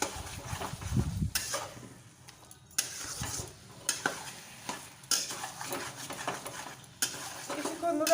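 Taro greens with chickpeas sautéed in a pan. A spoon stirs and scrapes in quiet repeated strokes over a faint sizzle, close and fairly soft, with pauses between passes.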